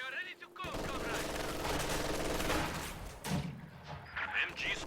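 Gunfire in a strategy video game, a dense rattle of machine-gun and rifle shots aimed at a building, continuous for several seconds with thuds beneath, fading into game sounds at the end.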